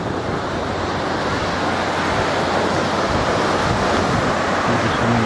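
Surf washing onto a white, powdery-sand beach in Punta Cana, a steady, close roar of breaking waves with wind buffeting the microphone throughout, no voices.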